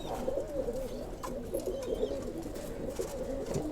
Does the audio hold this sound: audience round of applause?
no